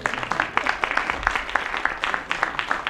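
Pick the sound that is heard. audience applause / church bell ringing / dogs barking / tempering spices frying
audience applause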